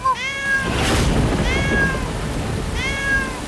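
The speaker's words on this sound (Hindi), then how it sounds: "सुनो, बिल्ली की आवाज।" A cat meows three times, each call a clear, rising-then-falling cry, close and loud, spaced about a second and a half apart over a noisy background.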